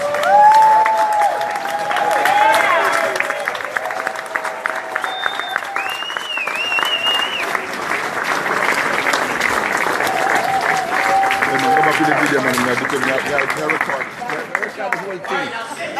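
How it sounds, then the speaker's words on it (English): A standing audience at a business training event bursts into sustained applause with cheering and crowd noise, loud and steady throughout, while whoops and voices rise over the clapping. "Let's stand up and give this man a round of applause."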